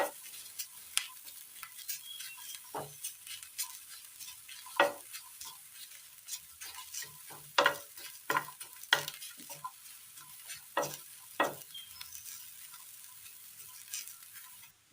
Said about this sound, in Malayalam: 3 വെളുത്തുള്ളി മുറിച്ചത്, 3 ചെറിയുള്ളി അരിഞ്ഞത്, ഇതിൻ്റെ പച്ചമണം ഒന്ന് മാറ്റിയെടുക്കാം.